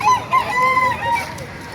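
Roosters crow at an outdoor chicken market in Baliuag, Bulacan, early morning, one drawn-out crow heard close over busy background clucking and crowd noise.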